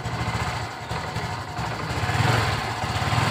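Honda Supra X 125 injection motorcycle engine sputtering and stuttering as it is revved, a rough, uneven, close-up putter of low beats that swells slightly, with no voice over it.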